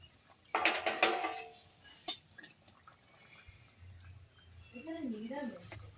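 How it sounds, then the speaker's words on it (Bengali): A lid comes off a cooking pot of simmering papaya, potato and bean curry for rui fish jhol, a short clattering burst near the start, then a single sharp clink and quieter kitchen sounds. "এবার আমি ঢাকা খুলে দেখে নেব পেঁপে, আলু, শিম সেদ্ধ হয়েছে নাকি"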